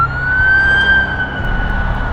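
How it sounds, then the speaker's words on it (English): Fire truck and emergency vehicle sirens wail steadily near the Potomac in Washington, DC, a loud sustained tone over rumbling traffic. "I started hearing a lot of fire trucks."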